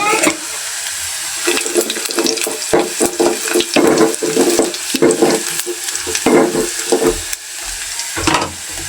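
Cumin seeds hit hot oil in a pot while chicken is cooked, giving a loud steady sizzle with stirring and scraping clatter throughout.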